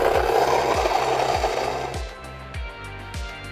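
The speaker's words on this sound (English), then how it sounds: "Grinds super fast, it's very quiet, and it has a detection where when the coffee beans are gone, it knows that and it stops the grinder." Fellow Ode electric coffee grinder grinding coffee beans, a loud steady motor whir with a rhythmic low pulsing that thins out partway through as the beans run low.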